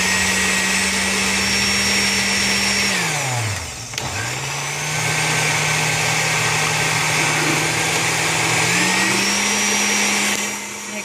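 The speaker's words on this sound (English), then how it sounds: "so we're just going to blend." A kitchen blender whirs loudly through a fruit snack mixture with gelatin, holding a steady high drone, briefly winding down and spinning back up partway through, then carrying on.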